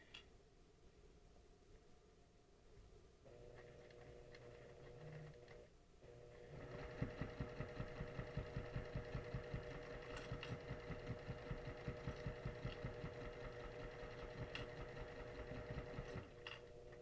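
Close and fairly quiet, a sewing machine stitches a curve on a quilt, its needle pattering in a quick steady rhythm after a short pause and some handling sounds at the start.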